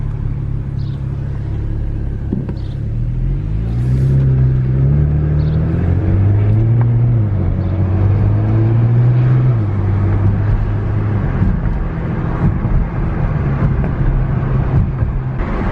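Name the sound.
car with swapped BMW N54 engine driving down the road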